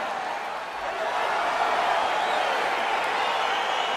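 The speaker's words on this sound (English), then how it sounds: "crowd getting excited as this fight gets underway" A crowd roars in the video game EA Sports UFC 4 as a fight begins, a loud, steady wash of cheering that swells after the first second.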